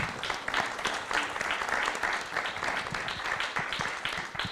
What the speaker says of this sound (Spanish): yo creo que se merece también, y no lo hicimos, un aplauso a Cádiz, a José Luis Gutiérrez Molina.